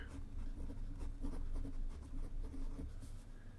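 A Faber-Castell Hexo fine-nib fountain pen with Diamine Oxblood ink writes on Rhodia paper, a close, quiet scratching of short strokes in an uneven rhythm, with no talk over it.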